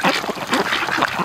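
Ducks from a flock quack in a dense, overlapping chorus, loud and close, with no pause through the short stretch.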